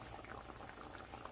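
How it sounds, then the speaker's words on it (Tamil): Water bubbling at a steady boil in a covered pot while vermicelli biryani is prepared, a soft continuous simmering burble heard alone and fairly quiet. "கொதிக்குது"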